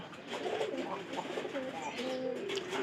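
Pigeons coo repeatedly at close range, their throaty rolling calls overlapping steadily against a busy, noisy background.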